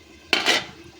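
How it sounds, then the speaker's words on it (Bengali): A metal lid is set down onto a cooking pot with a single short clatter, close and fairly loud, in a home kitchen where shrimp bata chorchori and rice are being made. "এবারে আমি ঢাকনাটা দিয়ে দেব 10 মিনিটের জন্য"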